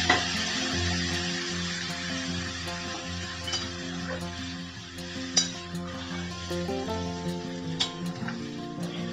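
Fig-boiling water poured into a pan of fried spices for an aloo dumur dalna, with steady sizzling and stirring, occasional clinks of utensil against the pan, and a constant backdrop of tonal sound.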